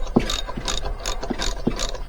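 A ratchet clicks as it loosens the spark plug on a Champion generator. It gives a close run of sharp mechanical clicks with a few stronger knocks between them.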